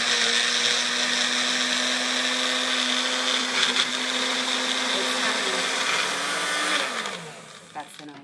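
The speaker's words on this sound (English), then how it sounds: "we're going to put it in this Handy Dandy Magic Bullet" A Magic Bullet personal blender whips cream at high speed, a loud steady motor whine that runs continuously, then winds down and stops near the end.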